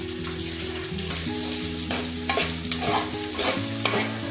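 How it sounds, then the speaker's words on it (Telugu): Onions added to a pan fry with a steady sizzle, and scraping stir strokes come through over a constant low tonal hum, close and moderately loud, with no talk. "ఇప్పుడు ఆనియన్స్ యాడ్ చేసుకోవాలి."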